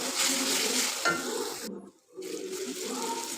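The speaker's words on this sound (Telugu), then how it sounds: "ఉల్లిపాయల పేస్ట్ వేసినాక అడుగు మాడకుండా చూసుకోవాలి. ఇలా కలుపుతూనే ఉండాలి." Onion paste and ginger garlic paste fry in a pan while being stirred, a close steady sizzle broken by scraping strokes and one brief near-silent gap before the frying resumes.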